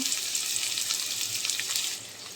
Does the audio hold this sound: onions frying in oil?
yes